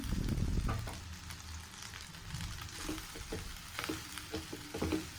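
Onions sautéing with turmeric and salt for onion rice: a continuous close sizzle with intermittent stirring scrapes of a spoon in the pan, no voices.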